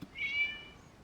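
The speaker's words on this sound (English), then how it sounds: "It was just a cat." A single short cat meow from the video game Genshin Impact, a thin high-pitched rising cry heard alone against a quiet background, fairly soft and close.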